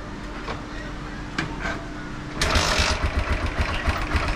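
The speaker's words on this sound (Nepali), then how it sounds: "हल्का किटिको आवाज सुन्नुभएको छ कि हजुरले? हल्का मोटो साउन्ड आइरहेको छ क्या।" A Bajaj-era Apache RTR 160 4V BS6 motorcycle engine idles with a light ticking fault, a steady low running note that grows louder and more pulsing after a couple of seconds, close by.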